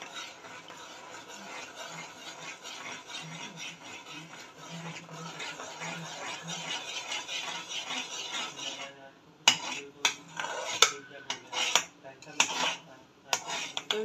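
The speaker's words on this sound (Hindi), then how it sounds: "चम्मच हिलाने से इसमें गुठलियाँ लम्स नहीं बनेंगी।" A metal spoon stirs custard made from milk in a pot, a continuous scraping swirl first, then sharper clinks and knocks against the pot's sides, close by.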